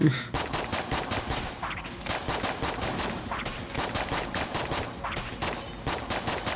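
Rapid gunfire from a charged weapon in the twin-stick shooter Exit the Gungeon, a dense, loud stream of shots fired in continuous bursts with no pauses across the whole stretch.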